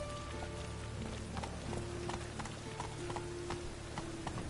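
Hoofbeats of Roach, Geralt's horse in The Witcher 3, galloping in a steady clip-clop rhythm, moderately loud and continuous, with brief shouts from a rider over the running.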